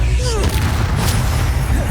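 Bombarda spell explosion in the game Hogwarts Legacy, a loud, dense booming blast with rumbling low end and crackling debris sustained throughout, close and alone.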